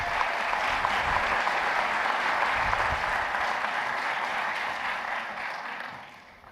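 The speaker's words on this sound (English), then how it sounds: "Let's give them one more round of applause." A chapel audience applauds a choir, a sustained, full round of clapping from a large crowd that holds steady before tapering off at the end.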